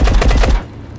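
Automatic gunfire in the first-person shooter game Marauders, a loud rapid burst of shots that cuts off abruptly into quieter background.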